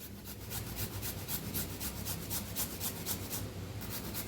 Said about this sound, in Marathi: अद्रक बी थोडंसं किसून घेऊया